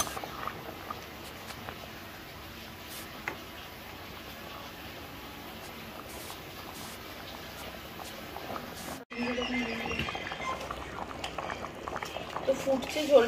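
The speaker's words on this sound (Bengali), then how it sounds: "তো দেখতেই পাচ্ছেন চানাটা ফুটছে।" Chickpeas boil in water in a pot, a soft continuous bubbling and hiss that turns louder and busier after a short break, with rising bubbles and patter near the end.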